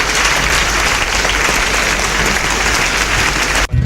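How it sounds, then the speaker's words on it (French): A French television studio audience applauds at the start of a broadcast, a dense, loud wall of clapping that runs steadily before cutting off abruptly at the end. "Il faut toujours applaudir les patrons au début d'une émission."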